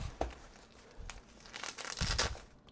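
Release tapes on fire blanket packaging are pulled, giving close crinkling and tearing rustles in a few quick bursts with no talk.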